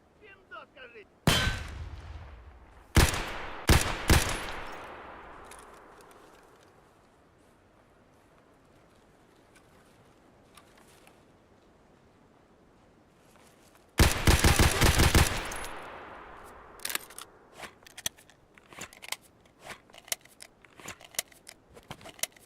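Gunfire in Escape from Tarkov: several loud bursts of shots near the start, then a long sustained burst midway, followed by scattered single shots and clicks, with quiet gaps between.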